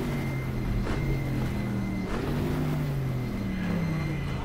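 A Corvette C3 race car racing at Sebring in GTR2 drones steadily up close, its engine note rising and falling through gear changes with a gliding pitch, loud and continuous.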